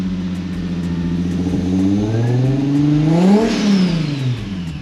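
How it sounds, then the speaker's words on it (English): Turbocharged car with a custom-built exhaust revving, engine tone climbing steadily to a peak with a rising turbo whine above it, then falling back, loud and close with no talk. "It's going to be all turbo noises. You're not really going to hear the exhaust now."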